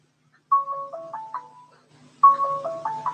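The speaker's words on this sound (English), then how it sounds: "Oh, somebody's calling me." A mobile phone ringtone plays a bright electronic chime melody for an incoming call, two repeated phrases of stepped notes, clear and close with a short gap between them.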